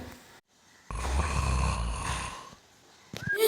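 A cartoon character snores while asleep, one long loud rasping snore that rises and fades, followed by short quieter breaths.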